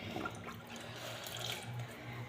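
Water is poured and runs steadily while things are washed and cleaned, a faint continuous splashing trickle with no talking.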